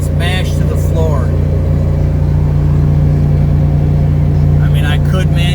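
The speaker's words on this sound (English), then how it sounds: "I got the pedal mashed to the floor right now" Chevy 3500 dump truck engine held at full throttle in second gear, a loud, steady droning roar close in the cab, with someone talking briefly over it near the start and end.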